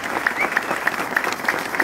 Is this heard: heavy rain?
no